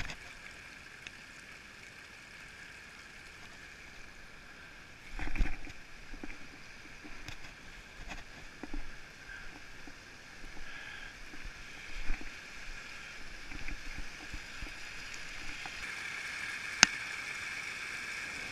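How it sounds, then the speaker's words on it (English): Rainwater running down a fire road after winter storms, a steady soft rush and gurgle of flowing water heard outdoors, with a few faint knocks and a brief sharp tick near the end. "The water in this clip is running down one of our fire roads."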